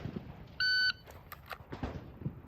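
An electronic shot timer gives a single sharp, loud, steady start beep lasting about a third of a second, with quiet room sounds and light movement on either side during firearm drill practice.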